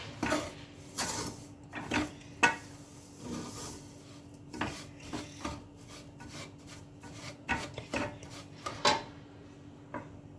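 Semolina ladoo mixture being mixed with ghee in a bowl or pan, giving repeated soft scraping and rubbing strokes with scattered light utensil knocks, quiet and close.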